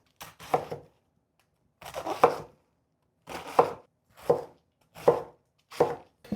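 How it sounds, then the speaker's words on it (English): A knife cuts through a cabbage on a board in short bursts of crunchy chopping, about seven separate strokes with quiet gaps between, close and clear with no talking. "I like to slice my cabbage in half."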